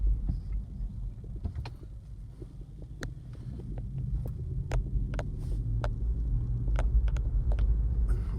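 A BMW i3 electric car pulls away and drives, giving a steady low whirring hum with a rising, jet-like drone under road rumble, with occasional faint clicks and ticks over the continuous motor tone.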